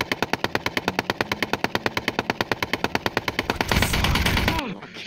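Rapid automatic gunfire rattles out in an even, fast stream of loud shots for nearly four seconds, then gives way to a louder roaring blast before cutting off.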